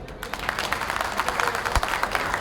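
Dense, steady applause from a crowd at a BRS party rally in Khammam, a continuous wash of clapping that holds at an even level throughout.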